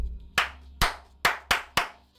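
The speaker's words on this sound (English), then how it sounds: "Changing up the clap pattern each time." Five sharp hand claps land in an uneven, changing rhythm, loud and close, each one ringing briefly before the next, with no voices over them.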